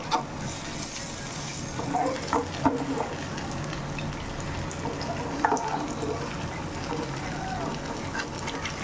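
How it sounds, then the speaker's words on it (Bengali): Lentil dumplings (bori) fry in a pan with a soft, steady sizzle throughout, broken by a few small clinks and stirring sounds, with no voices. "লাল লাল করে ভেজে তুলবো।"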